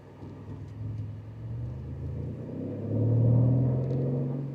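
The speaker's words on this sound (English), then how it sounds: "You can hear that motor. V8 twin turbo, to my knowledge, is what this one is." A Bentley Continental GT's twin-turbo V8 engine rumbles low at idle, then swells in a brief rev before settling, deep and steady throughout.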